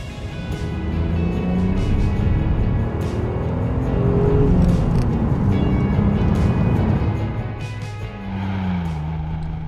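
Opel Vectra i500, a sporty mid-size family sedan inspired by the German Supertouring race car, heard as a loud, steady engine drone that rises and falls slightly, with a brief lull near the end.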